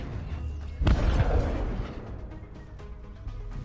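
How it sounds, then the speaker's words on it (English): Incoming enemy missile in the Breachway space video game, a sudden heavy boom with rumbling decay, followed by faint electronic beeps. "Incoming enemy missile."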